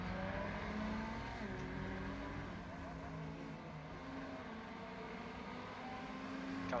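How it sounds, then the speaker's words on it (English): A Ferrari 488 race car's engine revs steadily in the pits at Laguna Seca in the iRacing sim, a continuous droning rumble held throughout without speech. "Blake revving away, patiently waiting to be released."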